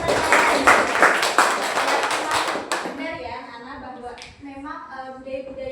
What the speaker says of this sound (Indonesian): beri tepuk tangan untuk Mbak siapa?